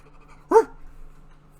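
A single short, close bark from Rex, a dog-like worm in a SpongeBob SquarePants cartoon, clear and alone against quiet background.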